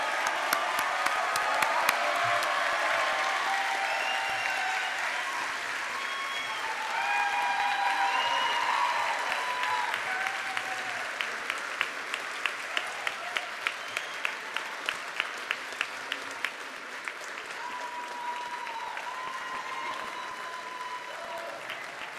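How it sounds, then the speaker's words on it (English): Sustained applause from a large audience at a medical school white coat ceremony greeting the entering class, a dense wash of many hands with some distinct nearer claps standing out midway, steady in level throughout. "So please join me for a round of applause for the class of entering 2019."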